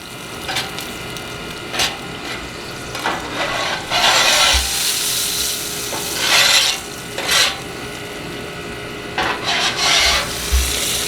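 A metal spatula scrapes bacon grease across a hot Nexgrill griddle, giving repeated harsh rasping strokes in irregular bursts over a faint sizzle, close and fairly loud.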